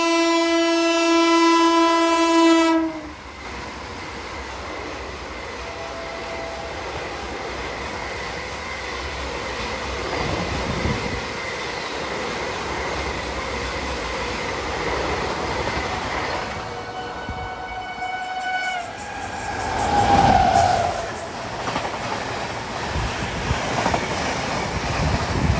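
The Sangam Express, running from Meerut to Prayagraj, crosses and overtakes another train: a loud horn blast opens, then a steady rumble of rolling wagons follows, with another horn sounding and fading late in the pass.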